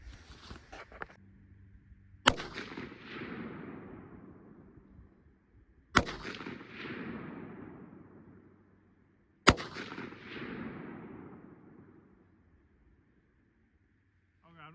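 Three loud rifle shots ring out at a shooting range, each sharp crack trailing into a long rolling echo, the rifle steadied on budget shooting sticks while firing at steel targets without striking them.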